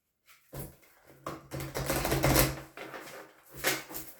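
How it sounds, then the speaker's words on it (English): Tarot cards are shuffled close by in a quick series of riffling, papery bursts with brief pauses between them. "Okay, we'll just do a quick shuffle."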